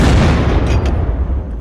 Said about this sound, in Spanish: Bueno, disparo. A la cara que está aquí nomás.